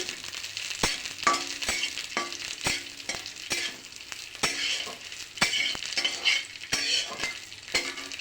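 Raisins and cardamom frying in a spoonful of ghee, a constant close sizzle broken by regular sharp clinks of a spoon stirring against the pan.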